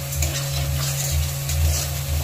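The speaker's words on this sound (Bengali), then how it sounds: "এবার আমি এতে কয়েক পিস টমেটো দিয়ে দিলাম।" Tomato pieces frying in spice paste for Bata fish curry give a steady sizzle, with soft stirring scrapes pulsing through it, close and moderately loud.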